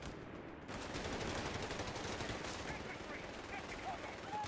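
MG-42 machine gun fire in the World War II strategy game Company of Heroes 3 at the Salerno beachhead: dense, continuous rapid bursts of gunfire filling the scene after a brief quieter start.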